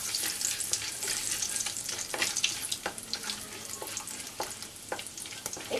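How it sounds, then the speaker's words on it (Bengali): Star anise, cinnamon sticks, cardamom pods and cloves frying in hot oil for a potol curry, a steady close crackle and sizzle with scattered sharp pops and stirring scrapes, no talking. "ওই তেলের মধ্যেই দিয়ে দেব একটা স্টার অ্যানিস, 4টে দিলাম দারচিনি, 4 থেকে 5টা এলাচ, 4 থেকে 5টা লবঙ্গ।"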